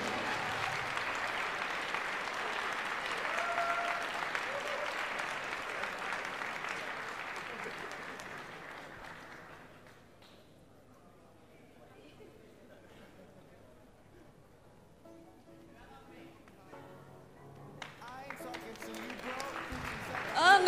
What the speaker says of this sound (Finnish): Otetaan vielä valtavat aplodit meidän paikalliselle Tommille täällä.